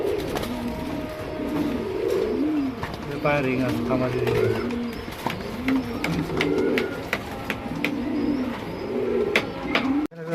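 A ringed pair of farm-bred pigeons coos in low, repeated rolling calls, close and continuous, while someone talks over them throughout.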